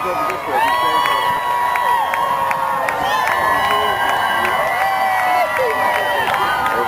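A crowd gathered outdoors at Lake George for a Today Show morning broadcast cheers and whoops steadily, with scattered claps and shrill calls throughout, loud and continuous from start to finish.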